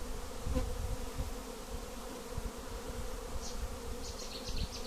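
A honeybee swarm buzzes around a hive outdoors, a steady, dense low hum of many bees close by, with a few brief higher whirs of individual bees passing near.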